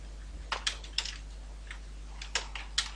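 Keystrokes on a computer keyboard while code is typed for an ExpressJS development setup, arriving as scattered taps and short bursts, fairly close and clear over a quiet low hum.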